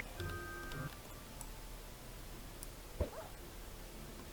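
A feral wolf in the Minecraft video game growls and whimpers in short, faint, dog-like bursts, including a brief sharper yelp midway, over quiet game ambience.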